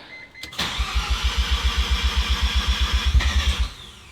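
A Mazda FD RX7 cranks over with a loud, steady rhythmic pulsing of the starter for about three seconds, close by, without catching and settling into a run, the effort ending abruptly.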